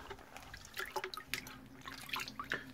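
Water splashing and dripping as a freshly CNC-machined steel plate is rinsed off, irregular close droplets and trickles in a quiet workshop.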